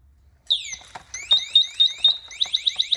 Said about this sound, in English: So that full alarm is obviously for a mayday situation